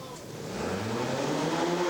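A trials motorcycle at an indoor trial event in Torino revs hard in third gear, a steady, rising engine drone that swells over the two seconds amid arena ambience.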